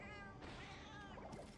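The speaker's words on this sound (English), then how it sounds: "What is my cat doing?" A pet cat meows close by, with a couple of drawn-out, wavering cries in quick succession and no talking over them.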